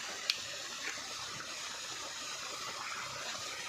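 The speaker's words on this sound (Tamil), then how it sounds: "நம்ம மாமா எடுத்துகிட்ருக்காரு உள்ளே இருக்க தண்ணியெலாம் வெளியே." Water draining from a pierced coconut, a steady faint trickling hiss running through the whole stretch with one small splash near the start, no voices.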